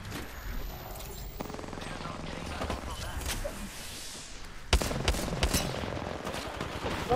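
Rapid gunfire in Apex Legends, including a Spitfire, bursts of automatic shots with a louder volley near the end, mixed with footsteps and spoken voices.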